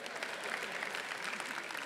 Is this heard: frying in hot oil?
no